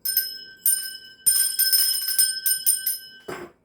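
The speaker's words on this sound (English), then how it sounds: "I'll be using this bell to cleanse the space around us." A handheld bell rings in a series of bright, sustained chimes, struck repeatedly in quick bursts with overlapping ringing tones, close and clear with no talking, ending in a short rustle.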